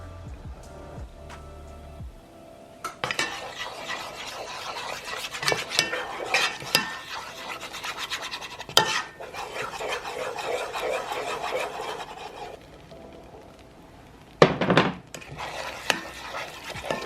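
Whisk working butter and flour into a roux in a pan for baked macaroni and cheese: rapid, scratchy metallic stirring and scraping against the pan with a soft sizzle, close and fairly loud, in bursts with short pauses.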